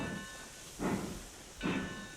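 Locomotive hauling a load of logs in RailRoads Online, giving two rhythmic chuffs of steam about a second apart over a low steady rumble.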